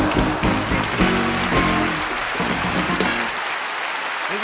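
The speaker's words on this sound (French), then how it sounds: "Les applaudissements pour Artus." A stand-up comedy audience applauds comedian Artus, a loud dense wash of clapping, with some louder claps and a low rumbling underneath, that gradually thins toward the end.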